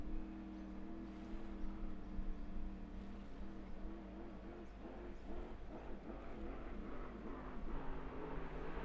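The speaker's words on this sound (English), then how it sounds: "Here in building the revs and the big supercharged motor." A big supercharged racing boat motor builds revs on the Murray River, a loud, steady droning roar with rising, rippling engine tones that carries on unbroken without speech.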